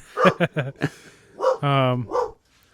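A dog barks several times in quick short bursts, close and clear, followed by a longer drawn-out yelp or howl and a final bark in a quiet room.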